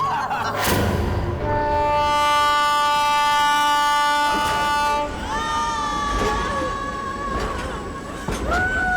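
A passenger train in motion with a steady rumble underneath, its horn sounding long sustained tones and then rising again, while people talk nearby.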